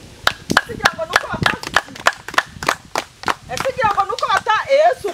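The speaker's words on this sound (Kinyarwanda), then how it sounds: "wakomeye Imana amashyi" A church congregation claps in a quick, uneven rhythm of sharp hand claps, close and lively, mixed with voices speaking and singing along.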